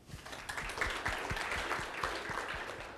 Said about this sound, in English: A round of applause and welcome here for Riku.